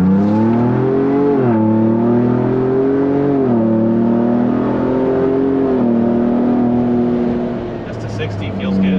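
A 2021 Ford Bronco Sasquatch First Edition accelerates from inside the cabin, its engine rising in repeated sweeps broken by quick, firm gear shifts, each shift dropping the pitch before it climbs again.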